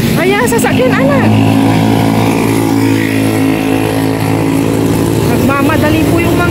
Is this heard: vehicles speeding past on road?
yes